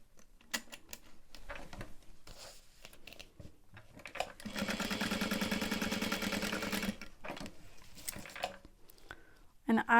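A home sewing machine runs in a steady buzzing stitch for a couple of seconds while sewing a modified Lauren bag, surrounded by clicks, fabric handling and someone talking.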